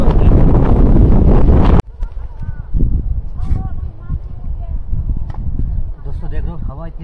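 Strong wind buffets a tent pitched in a forest during solo camping, with loud roaring gusts at first, then a lower steady blow as someone talks over it.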